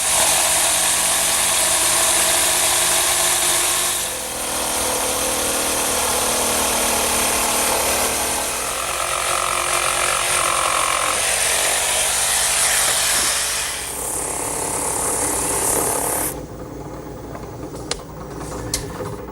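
A steady, loud power-tool whine runs continuously, shifting pitch as the blade bites into wood, then cuts off near the end, leaving faint clicks.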